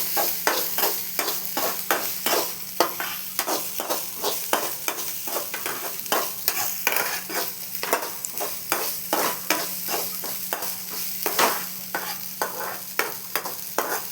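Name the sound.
ginger garlic paste being sautéed in a pan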